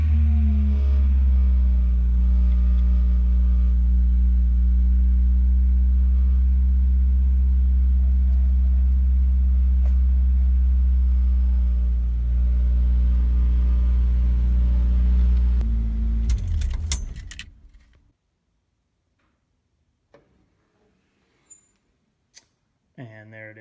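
Ford Cortina fitted with a Honda F20C engine holding a loud, steady high idle after starting, running for about sixteen seconds before cutting off abruptly, followed by near silence and a few faint clicks.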